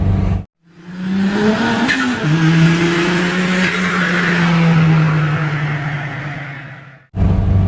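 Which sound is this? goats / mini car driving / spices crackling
mini car driving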